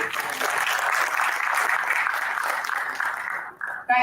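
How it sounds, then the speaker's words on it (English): An audience claps at a business summit stage in Mumbai, a dense round of applause that holds steady for about three seconds, then thins and is cut off. "Can we have huge, huge round of applause, please?"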